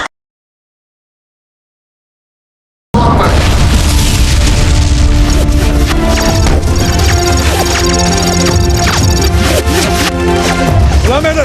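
Heavy gunfire and booming explosions from a battle scene in a historical patriotic war film burst in after about three seconds of silence, then stay loud and dense with crashes and blasts, with voices mixed in.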